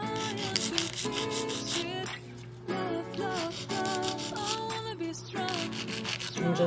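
Acrylic nails are filed with a nail file in quick back-and-forth rasping strokes close up, with rough bursts broken by brief pauses over a faint background tone.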